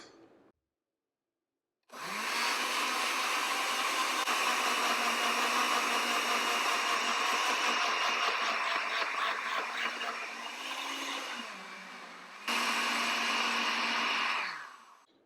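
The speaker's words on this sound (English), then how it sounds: "We're going to put all of the ingredients into the blender." A blender whirs loudly and steadily as spring roll ingredients, including half of the onions, are blended; the motor starts abruptly, dips in pitch briefly near the end, then revs back up before cutting off.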